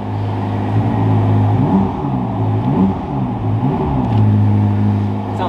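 A Lamborghini Aventador gives a few light revs, the engine note rising and falling in short swells over a steady idle, close and fairly loud, with faint talk nearby.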